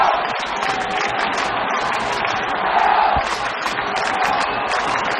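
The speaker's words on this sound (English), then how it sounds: "So the crowd certainly giving vent to their feelings" A stadium crowd at the 2003 Ulster Senior Football Final between Down and Tyrone roars and cheers steadily throughout, a dense, loud wall of voices with scattered claps, with faint commentary underneath.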